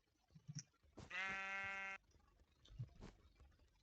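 One wavering Minecraft sheep baa from the Mystcraft mod rings out clearly for nearly a second over soft clicks and low background game noise.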